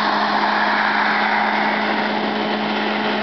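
A Darley AutoCAFS 2.5-inch high-output handline flows compressed air foam from its nozzle, a loud, steady, continuous rushing hiss with a constant mechanical drone underneath, unbroken from start to finish.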